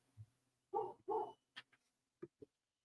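An excited dog upstairs in a house barks in a quick string of two loud woofs followed by several sharper, shorter yips, heard alone.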